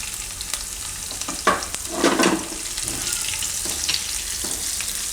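Cumin, garlic, green chili and curry leaves fry in hot oil, giving a close, steady crackling sizzle with a few sharper spits as the leaves hit the oil, broken by brief bursts of stirring.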